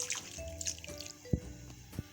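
Garlic water pours into a karahi for cooking, giving a faint, sparse trickle with a few soft drips and splashes and no talking.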